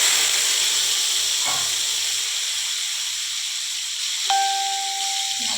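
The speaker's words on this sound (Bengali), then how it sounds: "আলুটা ভেজে নিতে হবে।" Boiled potatoes with cauliflower frying in oil in a pan give a steady, moderately loud hiss and sizzle throughout, with a faint bright electronic tone near the end.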